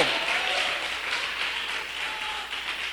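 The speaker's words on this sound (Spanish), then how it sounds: "¿Cuántos le dan un aplauso al Señor en esta hora, hermano?" A church congregation applauds in a continuous, fairly loud wash of clapping that fills the whole stretch without a break.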